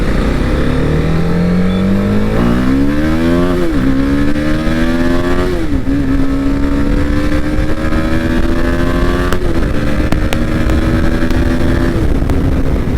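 A Kawasaki Ninja H2 superbike is ridden hard on a Sunday ride. Its engine note climbs loudly through several gears, each rise ending in a brief dip at the shift, under steady wind roar. No one speaks.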